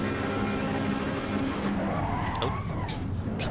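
A Ferrari races at Brands Hatch in Assetto Corsa EVO, its engine droning loud and steady while the tyres squeal in a rising and falling skid near the end.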